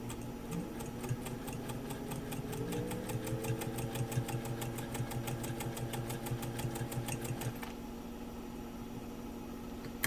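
A 1955 Singer 201-2 sewing machine runs close by, its fast even ticking stitch rhythm and motor hum lasting about seven seconds before it stops and a faint hum remains.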